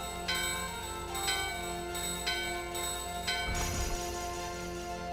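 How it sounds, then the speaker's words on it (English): A bell in the Gizamaluke grotto of Final Fantasy IX rings four times in an even rhythm, clear and sustained, followed by a brief shattering burst. "let's go ahead and ring the bell here"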